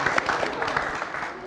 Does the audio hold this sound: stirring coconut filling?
no